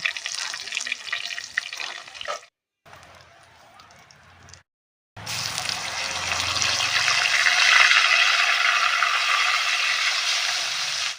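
Marinated mutton hits hot oil seasoned with dried red chillies, bay leaf, cinnamon and cloves, giving a loud close sizzle that breaks off twice, then swells into a sustained crackling hiss.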